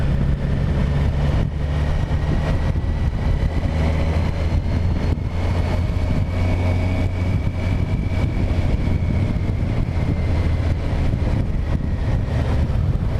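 A Kawasaki Versys 1000 LT SE motorcycle on the move gives a continuous low engine drone mixed with heavy wind rush, steady and fairly loud throughout with no voices.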